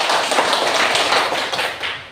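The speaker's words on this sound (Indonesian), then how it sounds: "Mari kita berikan tepuk tangan." Round of applause from a classroom group during a coaching session, dense overlapping clapping for about two seconds, close and fairly loud, fading slightly at the end.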